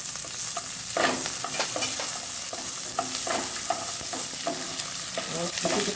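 Peanuts and green chillies frying in a pan for a spicy puffed-rice snack, a steady close sizzle with repeated scraping and tossing from stirring, no voices.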